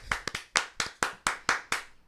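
Eight sharp hand claps in a quick, slightly uneven rhythm, close and fairly loud with no talk over them.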